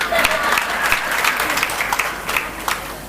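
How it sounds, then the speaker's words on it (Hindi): An audience claps at a religious discourse, a dense burst of applause close and fairly loud for a few seconds, with a voice faintly underneath. "एक ने ताली बजाई"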